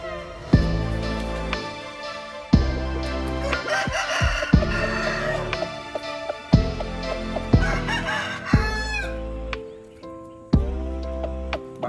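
Young Thai-American cross roosters of about 3.7 kg crow loudly and close by in repeated calls roughly every two seconds, with clucking between the crows and no talking.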